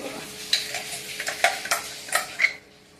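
Spices sizzle in hot oil as tempering for an Udupi-style jackfruit curry, with a spoon scraping the pan in quick, repeated strokes.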